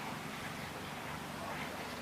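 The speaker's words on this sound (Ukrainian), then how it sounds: "Море, пісочок." Red Sea surf washes onto a sandy resort beach in Egypt as a steady, even roar of breaking water, with wind buffeting the microphone throughout.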